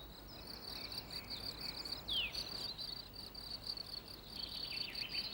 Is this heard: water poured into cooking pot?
no